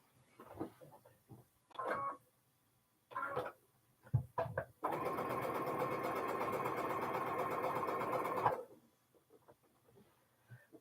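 A sewing machine runs in one continuous stitching burst of a few seconds, stitching triangles onto the sides of a quilt block square. Brief handling noises come before it, and quieter rustles follow after it stops.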